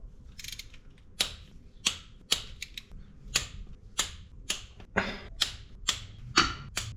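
A torque wrench clicks sharply and repeatedly, close up, as front cover bolts on a 6.4 Powerstroke engine are tightened to 23 foot-pounds. Isolated clicks come every half second or so, with no talking.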